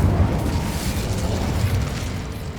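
Incendio fire spell cast in Hogwarts Legacy on PS5: a loud, continuous roaring whoosh of flame with a deep rumbling low end, sustained throughout and gradually easing toward the end.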